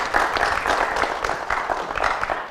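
A conference audience applauds a panel, a steady, fairly loud wash of many hands clapping that carries without a break and sounds dense and close.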